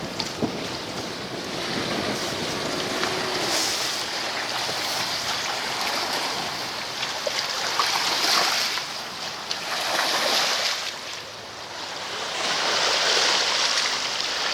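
Sea waves and wind on the Hamble foreshore by the Solent, a steady wash of surf with surges rising and falling every few seconds, mixed with gusty wind noise on the microphone and no voices over it.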